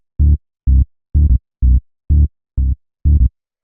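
Simple three-note tech house bass line, seven short, punchy low bass hits in an even rhythm with silence between them, loud and alone.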